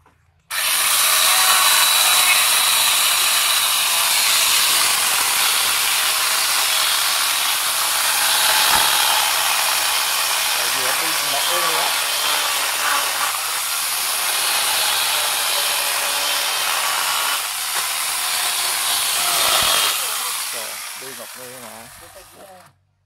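A chainsaw attachment fitted to an angle grinder cuts through dry, hard wood, a loud continuous high-pitched whine that runs steadily for most of the clip with slight shifts as the chain bites, with no talking.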